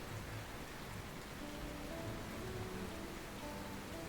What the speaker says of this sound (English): I love the rain. I love hearing it come down.